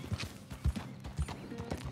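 Horse hooves clip-clop at a steady walking pace in the Red Dead Redemption 2 video game, soft and fairly close, with faint mechanical clicks mixed in.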